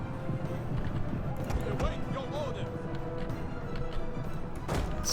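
Battle audio from the video game Total War Attila as Svaran cataphract cavalry rear-charge desert spearmen, with a steady rumble of hooves, clattering and clashing, and someone speaking over it.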